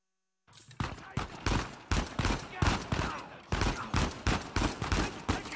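Bursts of gunfire in the video game Uncharted 4: A Thief's End, a dozen or so sharp, fairly loud shots in an irregular rapid rhythm following a short silence, with no speech over them.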